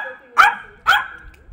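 A ten-year-old trained dog in a home fruit garden gives two sharp, loud barks about half a second apart, close by, with no talk over them.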